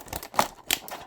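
Scissors snip and crinkle through the plastic packaging of a Greenlight 1:64 diecast 2019 Chevrolet Silverado, with a few short sharp cuts in quick succession, close and fairly quiet, with no talking.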